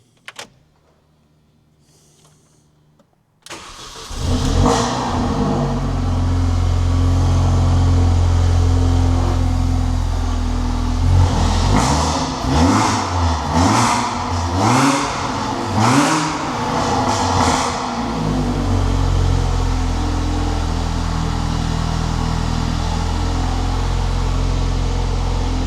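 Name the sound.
Mini R53 Cooper S engine cold start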